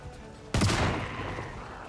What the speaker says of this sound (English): while I'm shooting the Zeds